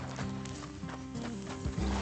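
Horse hooves clip-clopping at a steady walk in the video game Red Dead Redemption 2, a close, even rhythm of hoof falls over a continuous bed of game music and ambience, with no talking.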